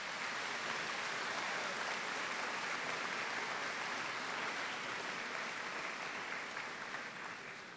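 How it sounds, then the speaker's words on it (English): Sustained audience applause fills a university convocation ceremony hall, a dense, steady wash of clapping from a large crowd that holds level throughout and eases slightly at the very end, with no speech over it. "It seemed like the parents were applauding a little louder than the students for that one."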